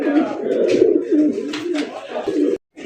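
An Indian Bombay pigeon coos in deep, throaty repeated calls, close and fairly loud, with faint background noise and a brief drop to silence near the end.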